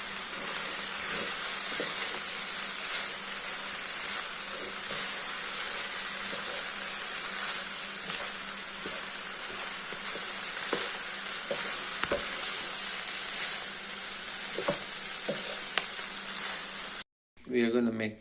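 Vegetables and sauce for restaurant-style egg fried rice being stir-fried in a hot pan, a steady loud sizzle with scraping stirs throughout, then a sudden cut near the end.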